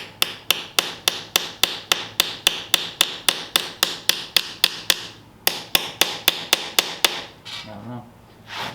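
A hammer strikes the metal of a 1932 Ford roadster in a steady run of about twenty-five loud, evenly spaced blows. There is a brief pause midway, then the sequence ends with a softer scrape and a few faint knocks.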